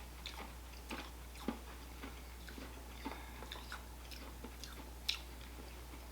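Close, quiet chewing of old-school versus new conversation heart candies, with soft irregular crunchy bites and ticks scattered over about six seconds, plus a couple of sharper snaps; no talking.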